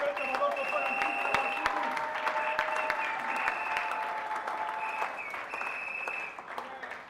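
A church congregation applauds in a steady, sustained wave of clapping that fills the whole moment, with voices and cheers mixed into the crowd noise.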